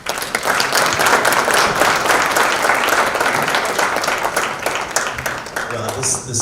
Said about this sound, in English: please give a hand of applause for our panelists